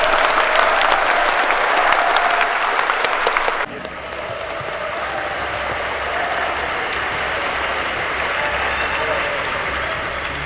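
Audience applause in a hall at a welcome address for migrant worker candidates, loud and continuous throughout, with crowd noise dipping slightly partway through.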